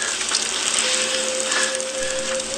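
Water boiling hard inside a plastic bottle held over an open fire, a steady dense sizzling hiss with bubbling crackle and a faint thin whistle tone running through it, close and continuous.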